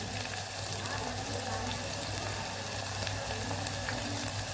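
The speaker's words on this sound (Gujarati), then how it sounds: "અહીંયા આપણે ડુંગળી થોડી વાર સતળાઈ ગઈ છે, તો અહીંયા આપણે આદુ ઉમેરી દઈશું" Onions sizzle in a pan as ginger goes in, a steady, fairly quiet frying hiss with light crackles throughout and no talking.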